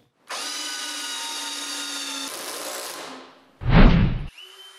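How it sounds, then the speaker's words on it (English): A Canadian Tire Maximum drill whines steadily for about three seconds while driving a screw into wood. The pitch shifts partway through, and the run ends with a short grinding burst. "Then I drill the first screw"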